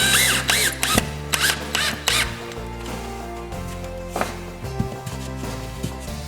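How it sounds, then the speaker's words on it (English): A power drill drives screws into drywall sheetrock during a repair, giving short whirring bursts with sharp clicks and thumps as each screw seats, close and fairly loud. "We want to sink our screws just enough to hold it in place and be able to be covered with mud."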